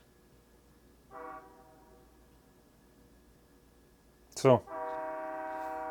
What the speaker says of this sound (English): Oh, local trains coming through.